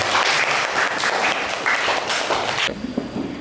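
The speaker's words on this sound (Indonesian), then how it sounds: "Tepuk tangan semuanya dong." Students in a classroom clap together in a dense burst of applause that carries on steadily, then cuts off abruptly near the end into quieter room sound.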